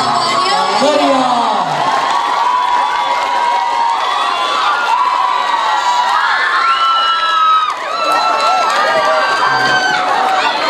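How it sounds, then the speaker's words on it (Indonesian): Crowd at a high school graduation ceremony cheering and shouting loudly and continuously, with children's whoops and a voice over a speaker system running throughout. "Berikan tepuk tangannya."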